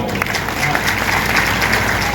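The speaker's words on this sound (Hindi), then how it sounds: "एक बार ताली बजा कर आप।" An audience claps together at a Hindi poetry recital in Ratangarh, a steady, dense wash of applause that holds at an even level for a couple of seconds with no voices over it.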